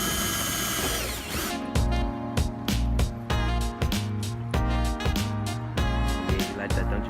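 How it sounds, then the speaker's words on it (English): A power drill bores holes into the body of a Ford Escort, starting with a rising whine, then cutting in repeated short bursts with brief pauses between them, loud and close. "Drill a couple of holes"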